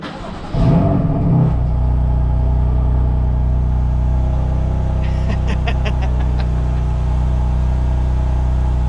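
A 2020 BMW M2 Competition engine cranks and fires with a loud rise, then settles into a steady, deep, rumbling idle heard close up.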